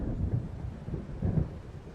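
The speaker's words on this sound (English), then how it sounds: "It seems there's a storm coming" Low, soft rumbles of thunder from a storm rolling in, heard in the Alan Wake game, come as two muffled swells over a dull background hiss.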